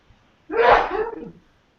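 A single sharp sneeze bursts out after a moment of quiet, close and fairly loud, then trails off.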